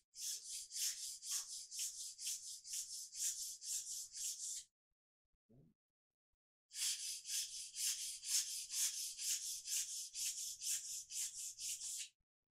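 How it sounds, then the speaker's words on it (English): Cane reed for an uilleann pipe chanter sanded by hand, heard close and loud as rapid, rhythmic rasping strokes in two long runs separated by a brief pause, with no talking. "Trying to keep that, the little bit I'm sanding away"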